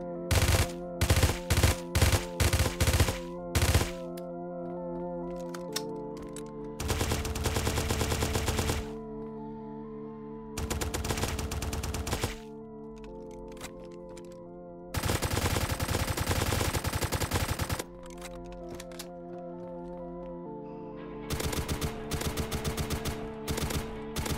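Bursts of AK rifle fire in the Roblox game Tactical Bedwars: rapid automatic volleys, with a few single shots first and then longer sustained strings, loud and close with short gaps of quiet between them.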